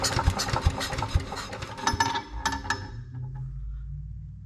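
Small Viper gas engine on an Earthquake wood chipper, carburetor under repair, sputtering and clattering near the mic with sharp mechanical knocks, then settling into a low steady rumble as it keeps running.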